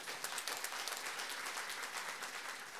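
Audience applause, a steady wash of many hands clapping at moderate distance, no talking.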